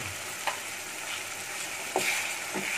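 Eggs frying in spiced masala, a steady close sizzle with a few brief scrapes and taps as they are stirred in the pan.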